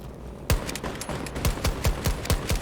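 Automatic gunfire from the Battlefield 2042 game erupts after a short quiet lead-in: a fast, slightly uneven string of loud, close shots, each a sharp crack with a booming low thump, continuing steadily to the end with no voices.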